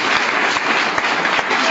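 Dense, loud applause from an indoor audience at a motivational meeting, a continuous wash of many hands clapping with no pauses.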